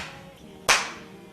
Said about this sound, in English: Let's have a clap.